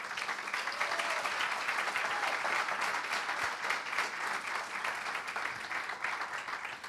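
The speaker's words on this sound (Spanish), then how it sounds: "Les quiero pedir un aplauso para ambas." Audience applause for two authors at a literary conversation in Valparaíso, steady dense clapping from a sizable crowd, fairly distant and even for several seconds.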